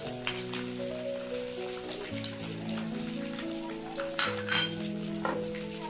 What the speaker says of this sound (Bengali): আদা কুচা দিয়ে দিচ্ছি, কাঁচা লঙ্কা কুচা দিয়ে দিচ্ছি।